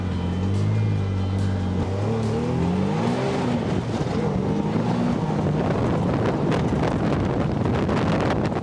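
Fox X2 side-by-side with a CVT pulls away at full throttle, engine note climbing steadily while heavy wind buffets the microphone throughout, loud and close from inside the vehicle.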